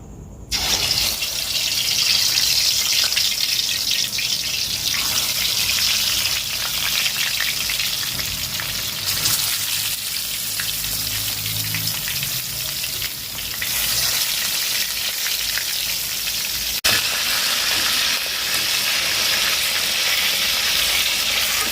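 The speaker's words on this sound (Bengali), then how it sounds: "কোনো চাপ ছাড়াই কিন্তু ভাজা হয়ে যাচ্ছে" Continuous loud frying sizzle in a wok, a dense crackling hiss that carries on throughout with a few faint knocks.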